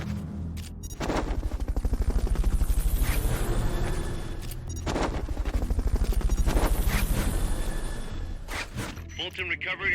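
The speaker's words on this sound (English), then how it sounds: "Fulton recovery helicopter is complete." Fulton recovery helicopter in the video game Metal Gear Solid Peace Walker, a loud, steady rhythmic rotor chop lasting throughout, mixed with sharp gunfire-like bursts and other game sounds.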